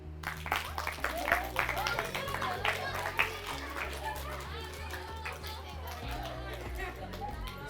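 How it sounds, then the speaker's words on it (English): Schoolchildren clap for a classmate during a stress-relief laughter session, scattered and uneven claps mixed with lively chatter and children's voices, under a steady low hum. "Can we clap for him?"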